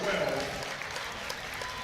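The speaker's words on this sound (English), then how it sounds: "Nice round of applause from the Thomas Nelson faithful for those that are checking out" Crowd applause from home fans in a school gym during a boys' high school basketball tournament quarterfinal, a steady wash of clapping, fairly loud at first and then holding level.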